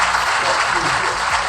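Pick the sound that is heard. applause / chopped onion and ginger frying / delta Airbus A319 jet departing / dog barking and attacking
applause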